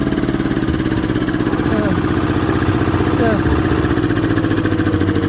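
A Daedong power tiller engine, left standing for four months, idles steadily after starting, with a loud, even chugging throb running throughout.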